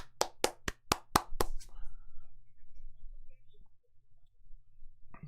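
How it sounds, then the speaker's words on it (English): A short burst of about seven sharp, evenly spaced claps at a Dragon Ball live announcement event, then quiet with a low hum in the background. "please give us a round of applause"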